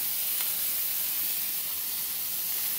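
Bacon frying in a pan for a burger, a steady, even hiss of sizzling fat with no pauses.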